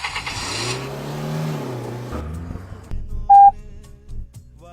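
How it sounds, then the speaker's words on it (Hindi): A car runs with a rising engine note that fades as it slows and comes to rest, followed by a short electronic beep and a few soft thumps in a quiet setting. "यहाँ से अब आगे गाड़ी नहीं जाती"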